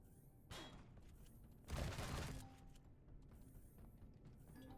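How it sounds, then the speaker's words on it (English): Gunfire in the video game Empyrion Reforged Eden, a short burst of muffled shots or impacts over low game ambience, with a fainter thump before it and no talk. "Somebody firing at me again."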